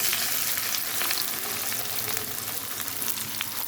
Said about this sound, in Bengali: এখন আমি গোবিন্দভোগ চালটা এখানে দিয়ে দিচ্ছি ভাজার জন্য